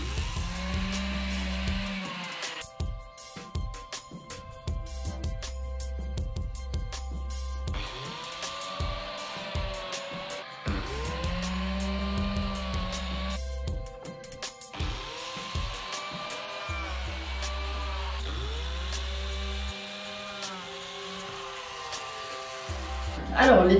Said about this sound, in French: Je passe à la découpe à l'aide de la lameleuse qui va accueillir les biscuits